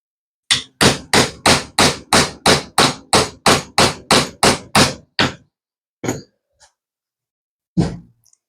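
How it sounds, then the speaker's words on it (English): A hammer strikes pins through a knife handle on a small bench: a quick, even run of about a dozen sharp metallic blows, then a few scattered single taps with pauses between. "Got a hammer and a little bench here."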